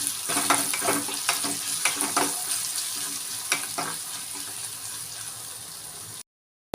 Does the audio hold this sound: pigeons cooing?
no